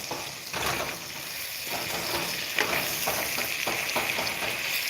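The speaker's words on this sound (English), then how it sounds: "this is my first pan sear in years" Beef searing in a hot pan gives a steady, close sizzle with a crackling hiss that swells slightly partway through and carries on without letup.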